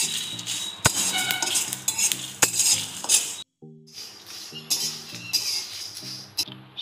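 Bay leaf, fennel seed, cumin and fenugreek frying together in hot oil in a pan, a steady sizzle broken by sharp metal clinks of a spoon stirring, with one brief pause.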